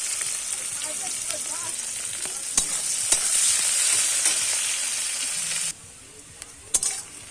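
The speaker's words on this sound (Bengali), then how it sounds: "পেঁয়াজটাকে ভেজে নেব।" Onions fry in hot oil with bay leaf in a pan, a continuous soft sizzle with a few sharp utensil taps, then quieting near the end before a couple of clinks.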